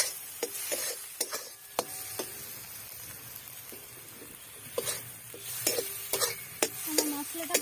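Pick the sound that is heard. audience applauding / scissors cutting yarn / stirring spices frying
stirring spices frying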